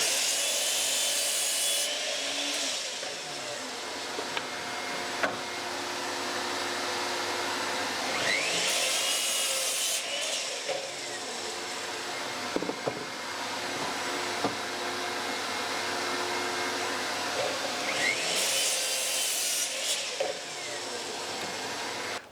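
Timber is sawn for mitre cuts, a rasping, rhythmic saw running close by in long stretches with brief pauses and knocks between passes, and a continuous hum underneath.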